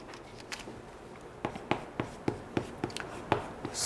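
Marker or chalk writing the names of organisms on a classroom board: a series of light taps and short strokes, sparse at first and then coming in a quicker, uneven rhythm, close by with no talking.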